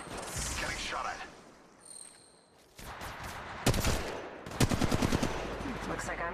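Automatic gunfire in Apex Legends Mobile, loud close bursts of rapid shots coming in two clusters after a quieter stretch, with game sounds around them.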